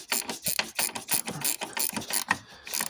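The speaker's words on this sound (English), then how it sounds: "If possible, I can double wrench it to tighten it down" A 10mm wrench tightening a horizontal screw on a high-pressure fuel pump, giving a steady run of close, loud ratcheting clicks and metallic grinding with no speech.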